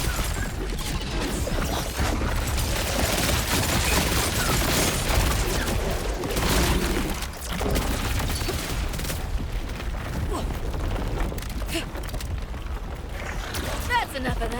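Dense, continuous gunfire and explosions from the video game Borderlands (Bloomreaper, UVHM, True Mode) fill the whole stretch loudly, with a voice speaking over the battle.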